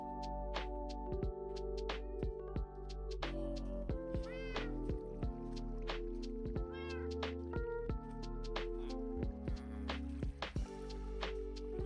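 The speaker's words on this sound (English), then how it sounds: "It's a fish that I can feed that cat, because I think that cat is hurt." Repeated meows from a cat in the Minecraft video game, with steady game music and sound effects throughout and no talking.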